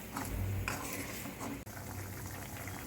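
Soft, steady bubbling and sizzling from a pan of soya chunk gravy with turmeric, heard close and quiet with faint clinks and no talking.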